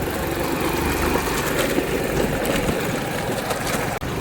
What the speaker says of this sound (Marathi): ही गाडी चालवत असतो